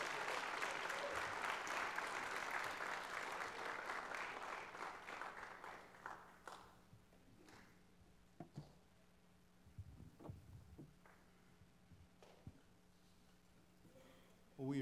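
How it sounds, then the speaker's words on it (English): Audience applause at a Christian college gathering, a full burst of clapping that thins and fades over several seconds, leaving a quiet room with scattered soft noises. "Let's give these guys a round of applause."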